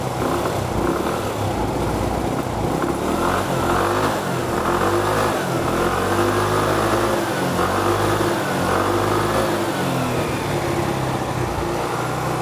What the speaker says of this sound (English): I'm going to allow the scooter to warm up a little bit, and then we'll set the idle speed